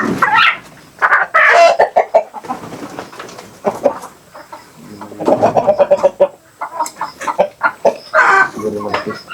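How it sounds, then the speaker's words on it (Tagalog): Native chickens cluck and squawk repeatedly nearby in irregular bursts, with people talking at times underneath. "ang taba ng manok na uli ni Bro Ugi."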